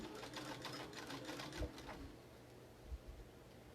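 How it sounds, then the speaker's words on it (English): Sewing machine back-stitching over earlier stitches on a fabric mask, a quiet, close rhythmic whir with a few soft thumps as it slows. "I back stitch there, overlapping the stitch that I already had."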